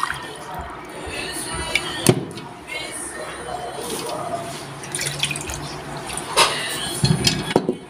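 Milk poured from a cup into a pot splashes and trickles unevenly close by, with soft clinks and someone speaking intermittently over the flow.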